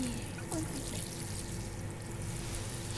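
Water pouring in Untitled Goose Game, a steady hissing trickle heard up close and moderately faint throughout, with no talking.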